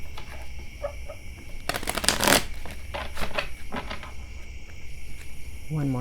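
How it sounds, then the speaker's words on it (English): Angel oracle cards are shuffled close up, with a few soft riffles and a loud, dense burst of flicking cards midway, followed by lighter taps and slides against a quiet background hum. "One more shuffle."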